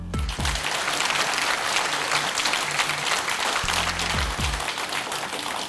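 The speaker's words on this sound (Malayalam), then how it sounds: "ഒന്ന് കൈയടിക്കും." A studio audience on a Malayalam quiz show bursts into sustained, dense applause, an even crackle of many hands lasting several seconds, with a faint low voice briefly audible beneath.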